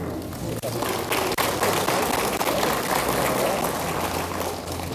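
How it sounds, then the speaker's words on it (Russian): Dense, steady applause from an audience fills the room throughout at an open meeting with IT companies, loud and continuous with no pauses. "Давайте дадим аплодисменты."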